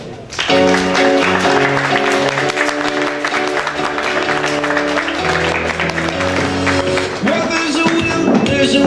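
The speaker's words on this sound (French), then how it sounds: "Merci d'accueillir Amandine Annette sous vos applaudissements." Applause from the audience at a Miss Oise 2016 pageant press presentation as a candidate is welcomed, steady clapping running under music with sustained tones throughout.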